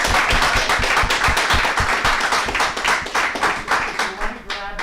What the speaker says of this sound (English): Maybe we can give a round of applause to thank them.